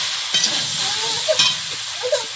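Soybean chunks fry in a pan, a steady close sizzle broken by a few soft scrapes of stirring, with no voices.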